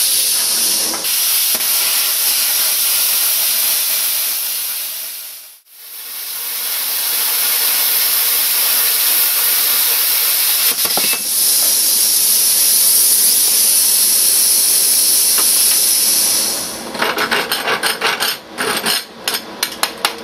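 R-Tech P50HF plasma cutter slicing through rusty half-inch steel plate, a loud steady high hiss sustained for many seconds, briefly cutting out once, then ending in crackling, spitting bursts.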